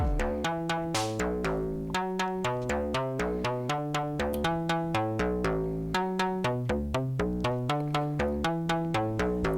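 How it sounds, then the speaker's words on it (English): A Frap Tools Brenso synth voice runs through a Steady State Gate, playing a bright, rapid, evenly pulsed sequence of plucked tonal notes with rich harmonics that shift pitch in a repeating pattern, alone and close. "So that synth voice sounds like this."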